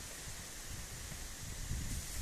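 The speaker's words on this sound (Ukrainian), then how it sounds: "Вітер знявся такий, що дай дорогу." Steady, loud storm wind roaring outdoors in the countryside with low gusting rumble against the microphone, no voices.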